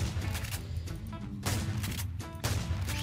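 Rapid gunfire from Flan's mod guns in Minecraft, firing non-incendiary bullets: dense, repeated bursts of shots that crackle steadily at a loud, even level with brief swells, and no voices.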